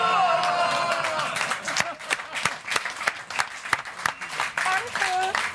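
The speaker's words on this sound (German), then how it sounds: "jetzt aber Applaus habe ich von hinten" Audience applause in a TV talk-show bar, bursts of clapping from the crowd mixed with voices and laughter, with people talking over the sound throughout.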